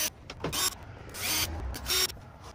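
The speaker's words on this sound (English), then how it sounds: "Got 5 screws to go back in down here." Screws driven back in while a Molle panel is installed in an Outbound Nevada, with several short whirring, ratcheting bursts from a driver, close up and with no talking.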